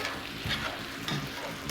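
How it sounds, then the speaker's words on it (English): Caribbean spiced rum flambéing in a hot pan, a steady close sizzle and fry with soft stirring scrapes and a brief flare of crackle, no voices over it. "we're gonna flambe it off"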